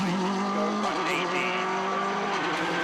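A Subaru rally car at the start of a Monte Carlo rally stage revs hard, its engine note rising and falling loud and close, with tire noise and a voice talking over it.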